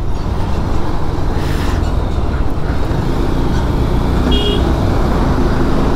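Busy road traffic on a Saturday near Bangalore rushes past loudly and up close, with wind buffeting and a couple of short horn toots sounding through the steady roar.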